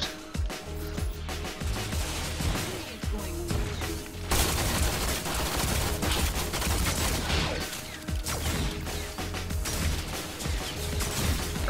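Combat shotgun fire in the sci-fi shooter Guardians of Orion, heard as dense, continuous blasts and crashing impacts over a loud battle mix with music and no break in the din.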